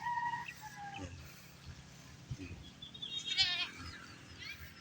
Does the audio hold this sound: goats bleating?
yes